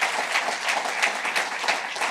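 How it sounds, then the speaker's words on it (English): Audience at a Reserve Bank launch event for upgraded banknotes and coins applauding, a loud, steady burst of many hands clapping with slight rhythmic swells, heard alone. "Round of applause."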